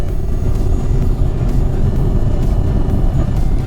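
A 2014 Chevrolet Camaro SS engine heard from outside the car, giving a loud, steady, deep rumble that holds without a break for the few seconds.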